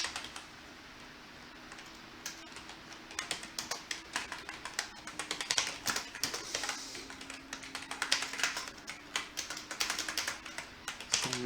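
Rapid, uneven clatter of keys on a computer keyboard with a US layout, fairly close and alone, the tapping growing busier and denser over several seconds.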